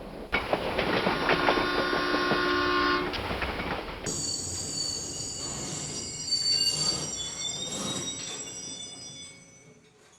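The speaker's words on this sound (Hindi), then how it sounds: "ये ट्रेन क्यों रुक गई?" A train rolls along the rails with a loud, steady rumble, then shifts to high whining wheel squeals and horn-like tones that gradually fade as it slows.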